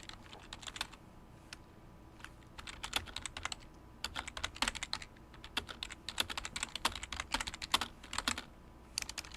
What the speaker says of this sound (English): But you heard the typing.